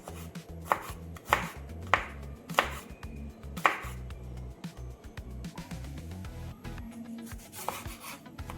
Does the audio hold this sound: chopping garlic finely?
yes